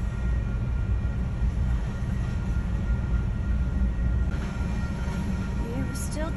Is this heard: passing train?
yes